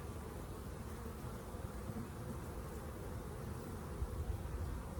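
Honey bees buzz around an opened hive as frames are pulled out, a dense, continuous droning hum with individual bees passing close by, steady throughout with no talking.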